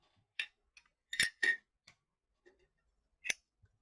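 Scissors snipping through material for a handmade phone and document holder, a handful of sharp, close metallic cuts in irregular bursts with quiet pauses between, no talking.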